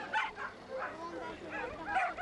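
Racing dogs at an outdoor lure coursing event give several short, yipping barks at moderate distance, mixed in with someone talking over them.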